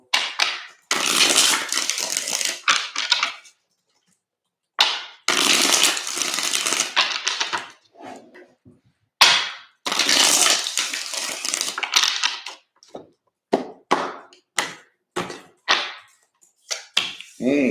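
Tarot cards are shuffled in a series of crisp, loud riffling bursts, some long and some short, separated by brief silences and ending in quick flicks and taps close by.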